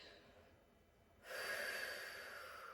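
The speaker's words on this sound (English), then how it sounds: "We want to focus on those deep breaths." A slow, deep breath drawn in after a quiet pause, then a long, steady airy exhale close to the mic, with no talking.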